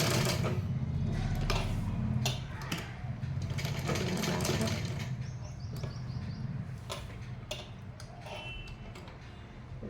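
Sewing machine stitching straight lines, with back-stitching between short runs, a close, continuous rattling whir with rhythmic needle ticks throughout.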